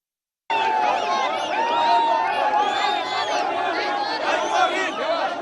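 Large crowd of Gorran List supporters filling Salim Street in Sulaymaniyah, Iraqi Kurdistan, roaring with sustained cheers, whistles and chanting voices, loud and continuous after a sudden start.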